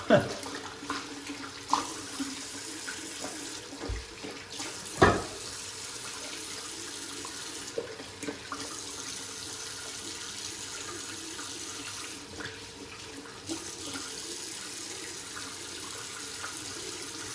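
Tap water running steadily into a sink while a face is rinsed during a straight razor shave, a continuous splashing flow with intermittent louder splashes and brief voice sounds over it.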